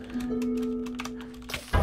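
Rapid clicking of computer keyboard typing, a light steady patter close by under a low electronic hum, ending in a sudden heavier thump.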